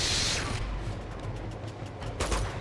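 Gunfire in the video game Uncharted 2: a burst of rapid shots opens, followed by a string of quicker, lighter pops and another loud volley near the end, all at moderate volume with no talk.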